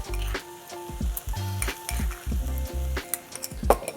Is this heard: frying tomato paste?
yes